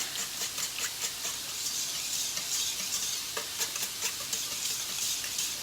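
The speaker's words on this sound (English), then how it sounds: "I'm just going to whisk this all together" Canned soups and pepper whisked together in a bowl for a tater tot casserole: quick, rhythmic clinks and scrapes of the whisk, soft and close, repeating throughout.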